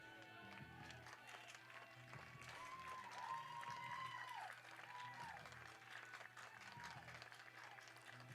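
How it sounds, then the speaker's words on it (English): A home crowd gives an ovation at a college baseball game against South Dakota as a relief pitcher leaves, with steady, fairly distant applause and faint cheering. "DeFelipe gets a nice ovation from the home crowd."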